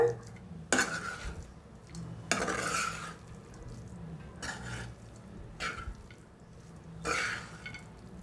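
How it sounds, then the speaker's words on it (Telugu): Sago (sabudana) upma being stirred in a pan. Several separate scraping and clinking strokes of a utensil against the pan come at irregular intervals over a quiet background. "ఈ సగ్గు బియ్యం అంతటికీ కూడా ఈవెన్గా పట్టేటట్లుగా కలుపుకోవాలి"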